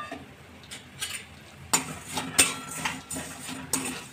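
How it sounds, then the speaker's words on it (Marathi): Vermicelli roasting in a little oil in a wok sizzles softly, while a spatula stirs and scrapes the metal with repeated clinks and taps and no one speaks. "थोडंसं तेल टाकून घेऊया कढईमध्ये आणि या शेवड्या याच्यामध्ये टाकून घेऊया कढईमध्ये आणि याला भाजून घेऊया आपण"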